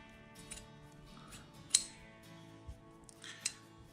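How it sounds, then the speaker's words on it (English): Scissors cut along the seam of an old T-shirt sleeve being turned into rags, giving faint, sparse snips and soft fabric rustles in a quiet room. "So I like to just come down the sleeve there and cut right in front of the seam."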